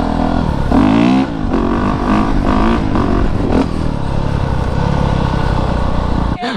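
A 2019 Honda CRF450RX dirt bike engine revs up and down nearby, loud and rising in pitch, then settles into a rough, clattering idle.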